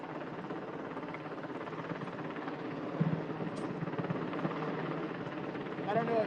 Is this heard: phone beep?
no